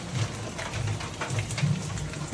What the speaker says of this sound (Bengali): ঝমঝম বৃষ্টি পড়ে।